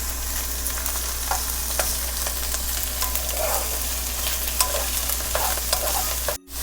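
Chopped onion and carrot fry in a hot pan for tomato broccoli fried rice, giving a steady close sizzle dotted with sharp spattering pops, with no talking.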